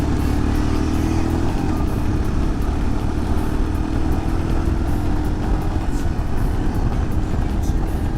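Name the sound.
Royal Enfield motorcycle riding on demo tour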